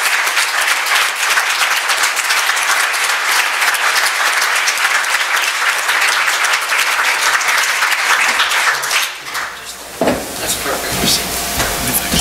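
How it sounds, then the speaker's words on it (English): Sustained audience applause at a leadership summit welcoming a young man with ALS to the stage, a loud dense roar of clapping that thins out near the end as people settle. "keep the clapping going, guys"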